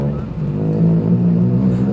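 A BMW rally car at a rally gathering in Kohima idles and revs with a steady, deep engine rumble held close by, while faint voices murmur in the background.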